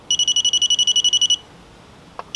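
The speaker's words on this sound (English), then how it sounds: "8 beeps, which means this is default" Rapid series of high electronic beeps from a Classic Army Nemesis HEX airsoft gun, about a dozen evenly spaced tones in a quick burst, loud and close, then quiet with a faint click.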